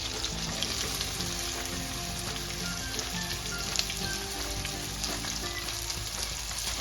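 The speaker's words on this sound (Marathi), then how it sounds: "आता मस्त अशी चांगली आपण भेंडी परतवून घ्यायची आहे तेलामध्ये।" Okra stir-fries in hot oil with a constant, dense sizzle and faint stirring, close and steady throughout.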